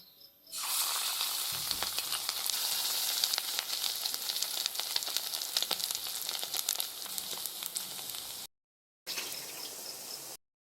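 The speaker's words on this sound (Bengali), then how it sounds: "গরম তেলের মধ্যে মাখিয়ে রাখা মাছের ডিম দিয়ে পাকা কলাটি এইভাবে দিয়ে পকোড়া করে নেব" Ripe banana and fish roe pakoras fry in hot oil, a steady close, loud crackling sizzle that rises sharply after a brief quiet start and runs almost unbroken, with one short gap near the end.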